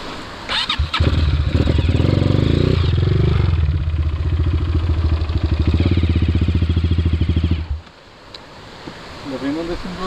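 Trail motorcycle on an outdoor trail near a waterfall starts up and runs at low, steady idle for several seconds before cutting off, loud and close, with voices faintly present.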